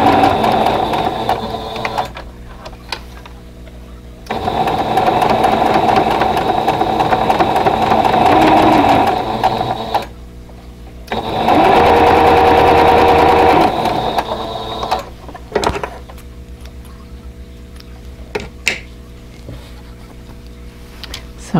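Sewing machine stitching a vintage Carolina Lily quilt block with flying geese points, running in loud bursts of steady whirring with short pauses between and a few clicks as the machine stops.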